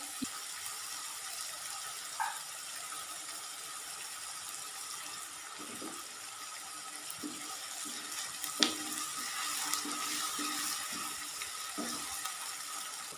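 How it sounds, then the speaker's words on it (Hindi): Onions for okra masala fry in a pan with a faint, steady sizzle, broken now and then by soft clinks and light knocks from a spoon or utensil. "तो प्याज हमारी यहाँ पर फ्राई हो चुकी हैं।"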